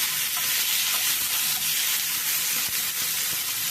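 Tomatoes and coriander sauté in a pan for a fish gravy, giving a steady, close, dense sizzle and hiss with occasional soft stirring scrapes and no speech.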